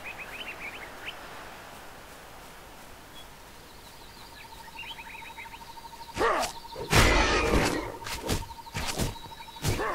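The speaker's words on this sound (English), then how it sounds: "Those birds are really just a nuisance." Birds in the action RPG Titan Quest, faint chirps and call trills at first, then a loud flurry of flapping whooshes and squawks near the end over a steady tonal game ambience.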